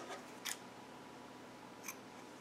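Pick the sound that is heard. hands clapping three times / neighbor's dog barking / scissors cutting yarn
scissors cutting yarn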